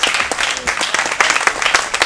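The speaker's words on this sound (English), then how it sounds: "Let's give Papa Parker a nice round of applause" Audience members at a jazz and poetry event clap in a brief, dense round of applause, lively and near, with a faint murmur of voices mixed in.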